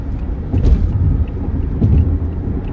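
Several cars roll slowly past on a road nearby, giving a steady low rumble that swells twice as each one passes, with no talking.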